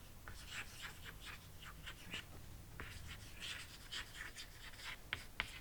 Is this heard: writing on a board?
yes